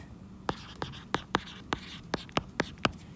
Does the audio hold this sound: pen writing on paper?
yes